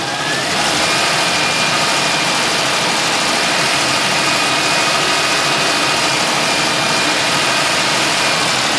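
A 3.1/3.4 liter car engine idles steadily after coolant bleeding, a continuous close, even mechanical hum with no voices over it.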